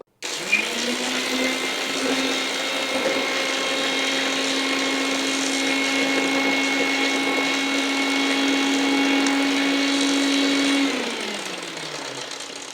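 A kitchen mixer grinder whirs loudly and steadily for about ten seconds as it grinds mango ginger and turmeric for pickle, then winds down to a stop; no talking.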